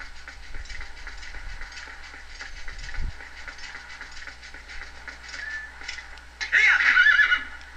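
Horse neighing in The Legend of Zelda: Twilight Princess, a short whinny near the end rising over game music and ambient sound.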